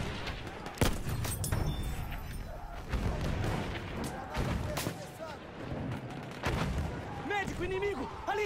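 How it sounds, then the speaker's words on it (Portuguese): Enemy machine gun fire in a console war shooter on the Suez map, bursts of gunshots and booms crackling through a busy battle mix, with someone shouting over the shooting. "Metralhadora inimiga!"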